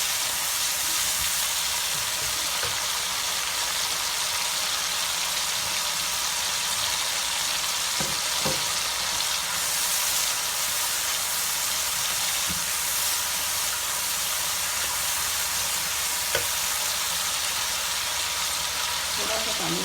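Ginger garlic paste fries in hot oil for a curry, giving a continuous, even sizzle and hiss close by, with a few faint clinks and spoon sounds under it.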